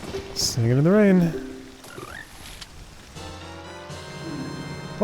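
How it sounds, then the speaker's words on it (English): Frogs croak in the Ocarina of Time video game, a rising, warbling croak up close followed by chirpy tones over a backdrop of rain-like patter, with a musical tone sustained near the end. "Some frogs are looking at you from underwater."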